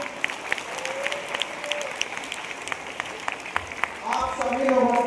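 Audience applause at a school Divyangjan celebration program, a sustained wash of clapping lasting several seconds and swelling louder toward the end, with some voices mixed in.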